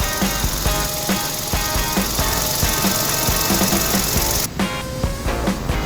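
The 1.0 gasoline engine of a 2014 Kia Ray runs steadily up close in the open engine bay, a constant mechanical drone with a faint regular ticking rhythm throughout.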